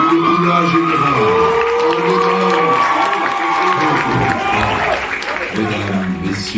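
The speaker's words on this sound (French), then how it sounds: "je vais vous demander de faire un tonnerre d'applaudissements." Live show audience applauding and cheering on cue, a sustained roar of clapping and shouting with a voice speaking over it.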